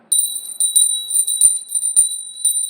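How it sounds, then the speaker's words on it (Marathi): A small brass puja bell rings rapidly and repeatedly up close, bright sustained metallic tones with quick strikes, alone without talk. "आता बघा माझ्याकडे छोटी घंटी आहे तर ही घंटीचा नाद कसा आहे बघा"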